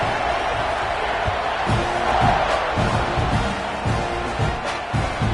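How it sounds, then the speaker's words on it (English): Stadium crowd at a Texas A&M football game after a score, a broad steady roar filling the stands with rhythmic thumps and whoops rising through it, continuous and loud throughout. "this crowd is buzzing after that last score"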